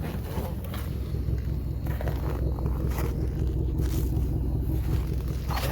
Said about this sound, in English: Listen to exhaust